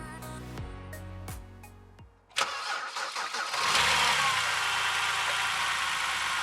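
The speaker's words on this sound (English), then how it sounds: "it's time to start the car and see the results." A BMW E90 325i N52 engine cranks with a few rhythmic starter turns after ignition coil replacement, catches with a jolt, and settles into a loud, steady idle close by.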